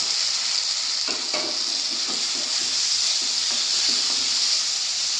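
Fried fish head dropped into spices sizzling in a pan, a loud continuous frying hiss with a few soft thuds and scrapes as pieces land and shift, close and without voices.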